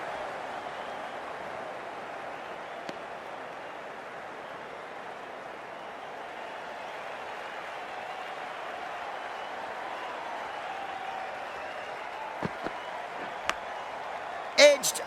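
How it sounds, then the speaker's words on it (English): A stadium crowd in the Cricket 24 video game, at an India vs England match in Manchester, applauds and murmurs in a steady, even wash of noise that lasts throughout, with a few faint knocks near the end. "already the crowd is up and about"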